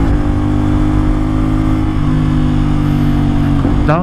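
A CFMOTO 450SR sport motorcycle engine drones loud and steady from close by, its pitch shifting near the end as the rider downshifts.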